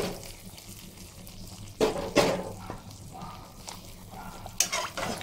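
Tempering (bagar) hits a deer meat curry with a sizzling hiss as a spoon stirs and scrapes the pot, the frying steady and close with a few louder scrapes and clunks.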